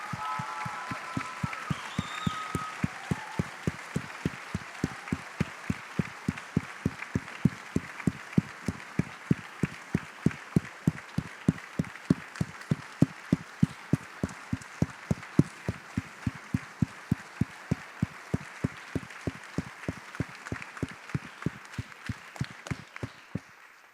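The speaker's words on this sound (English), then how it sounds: "Let's give them a round of applause." Audience applause for a senior high school orchestra class rings out at an end-of-year celebration, with rapid, even claps that stay moderate in level and carry on steadily for over twenty seconds, with no talk over them.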